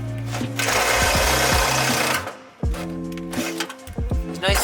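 A power drill whines in loud bursts, drilling holes for a roll cage in a Toyota AE86, revving up and down with short pauses between, close by, with some mechanical clatter in the gaps.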